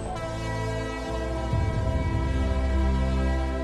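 A train in Salta, Argentina rumbles along with a sustained, loud, multi-toned horn blast running the whole time, while deep rolling wheel noise builds partway through.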